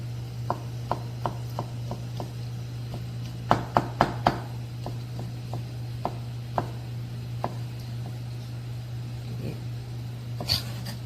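A knife julienning ingredients on a cutting board for Korean shredded pork in sweet bean sauce gives a series of sharp, irregular taps, a few in quick bursts, over a constant low electrical hum.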